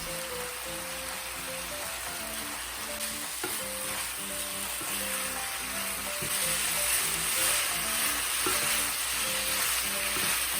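Noodles and vegetables stir-frying in a hot pan with a steady loud sizzle and repeated clanks of a utensil against the metal, continuous and close with no talking.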